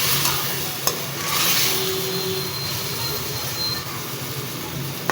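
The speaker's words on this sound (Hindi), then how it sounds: "अब इसको अच्छी तरह भून लेते हैं।" Chicken and bitter gourd are stir-fried in a pot, giving a steady broadband sizzle with scraping and stirring noises. A sharp clack is heard near the start, and the sound stays close and continuous with no talk.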